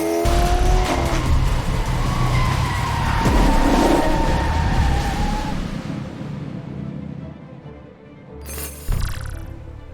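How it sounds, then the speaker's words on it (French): A video game car engine roars and tires squeal continuously, loud and close, with a brief harsher burst near the end as the sound fades slightly. "j'entends une voiture arriver"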